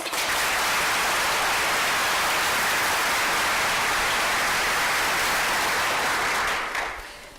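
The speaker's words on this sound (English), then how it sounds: "let's give the recipients of the School of Nursing Honors and Awards a special round of applause" Audience at a college nursing pinning ceremony gives a long, dense round of applause in a large hall, steady and loud for several seconds before tapering off at the end.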